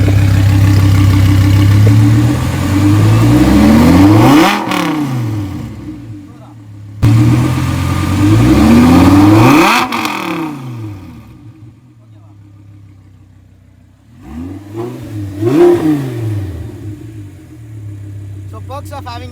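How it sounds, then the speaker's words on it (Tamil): An Audi R8 with a naturally aspirated V10 and custom loud exhaust revs hard in repeated bursts, each blip climbing sharply and falling back to a rumbling idle, loud and close with brief pauses between. "இப்போ எக்ஸாஸ்ட் நோட் காமிக்கிறேன்"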